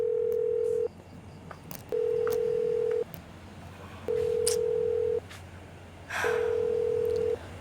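An unanswered telephone call rings out as a repeating ringback tone, four steady beeps about a second long separated by silences, clear and close with faint background noise.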